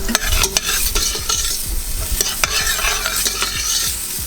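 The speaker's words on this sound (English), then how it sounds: "we're gonna cook up our onion and our garlic" Onion and garlic sizzle in a hot pan while being stirred, a steady close frying hiss broken by repeated scraping clicks of the utensil against the pan.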